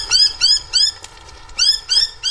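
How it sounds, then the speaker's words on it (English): A young noisy miner bird gives a series of loud, harsh, close squawking calls in quick bursts, with a short pause in the middle. "This young, noisy minor bird is just the first of many casualties."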